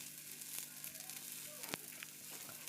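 Sizzling from a pan where egg curry ingredients such as onion roast until lightly reddish, a steady close hiss with a few brief pops and clinks, no voices.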